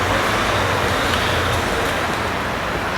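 Heavy traffic rushes past a street corner on rue Bégon, a dense, loud and continuous roar of passing motor vehicles that stays steady and close without a break.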